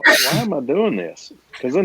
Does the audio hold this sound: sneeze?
yes